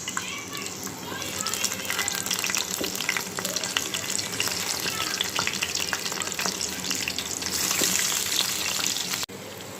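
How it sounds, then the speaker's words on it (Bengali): Chicken pieces fry in hot oil in a pan, a continuous crackling sizzle with bursts of spattering and occasional stirring scrapes, while a voice talks over it. "এখন আমি মুরগিগুলো একটু ভেজে নিব।"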